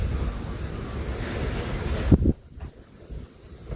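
Strong wind blowing outdoors, a loud rushing roar buffeting the microphone that cuts off abruptly after about two seconds and then returns as a quieter, gusty rumble.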